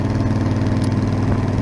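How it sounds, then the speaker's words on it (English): A Yamaha Super Tenere motorcycle idles steadily through a new Delkevic 343mm carbon-tipped oval exhaust with a 2-inch baffled outlet, a close, even low-pitched throb with no talk. "So you may be able to hear we have a new exhaust can on as well"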